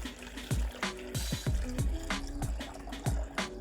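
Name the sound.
pouring filtered water onto coconut for vegan milk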